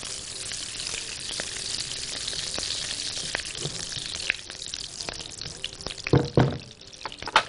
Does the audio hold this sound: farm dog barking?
no